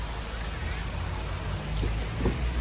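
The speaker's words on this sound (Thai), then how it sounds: "ฝนจะตกตลอด" Steady rain falls through the whole stretch, a dense even hiss with low rumble beneath and slight swells near the end; no one speaks.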